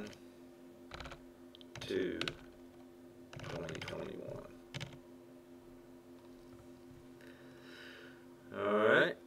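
Keystrokes on a computer keyboard as a date is typed into a spreadsheet cell: a few scattered, faint clicks and short bursts over a steady low hum.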